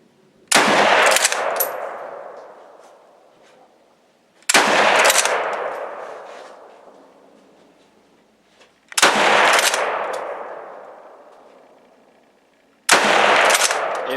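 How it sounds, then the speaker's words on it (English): A Lee Enfield No.1 Mk. III* rifle fires four loud, sharp shots outdoors, spaced several seconds apart, each followed by a long echoing decay, with a hang fire noted among them. "Did you hear that hang fire?"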